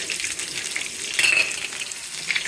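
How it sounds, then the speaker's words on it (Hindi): Onion and garlic sizzle in hot oil for a Memoni kari, a steady close crackling fry with a brief sharper hiss midway and no talking. "ये ऑयल गरम हो गया है, मैं इसमें प्याज और लहसुन डाल रही हूँ।"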